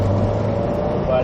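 Subaru WRX STI accelerating hard on a track during a driving course, a steady loud engine drone heard from inside the car, with a voice talking over it.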